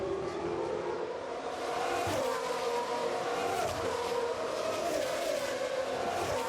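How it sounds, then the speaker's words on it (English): GP2 race cars scream through the fast final section of the Baku street circuit at around 150, a sustained high engine whine with shifting pitch filling the whole stretch, no voices. "As they blast through the fast part of the lap at the end, building up, doing 150 as they approach the very difficult turn 15."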